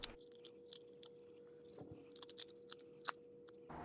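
Knife or scissors cutting along the spine of a raw chicken, a few sparse crunching snips and cracks of bone against a quiet, steady background hum, close up.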